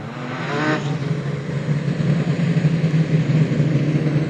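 Production sedan race cars roar around the Gympie Speedway dirt track in a final, a steady loud engine drone with rising revs throughout, no commentary over it.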